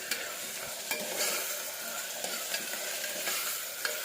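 Onion and tomato fry in a pan while being stirred, a quiet, steady sizzle punctuated by regular scraping and tapping of a spoon against the pan, with no voices.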